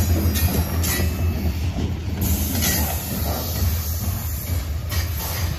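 CSX freight train rolling past on the Clinchfield subdivision near Lincolnton, North Carolina, loud and close, with steady wheel rumble, rhythmic clatter and high squealing hiss, no voices.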